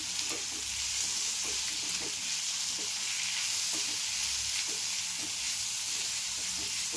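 Ginger-garlic paste frying in oil in a pan for cabbage rasam, a continuous loud hissing sizzle with soft periodic stirring scrapes, close up and without speech.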